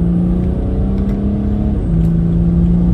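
A BMW 335d with a stage 1 tune accelerates hard after a downshift, a loud, close, steady engine drone whose pitch dips briefly before climbing again, with no talk.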